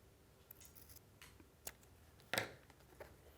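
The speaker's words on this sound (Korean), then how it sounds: "책등의 넓이만큼 잘라주세요." Scissors cutting paper to the width of a notebook spine during a notebook-making craft session, a few quiet, separate snips with one sharper, louder cut near the middle, heard alone in a quiet room.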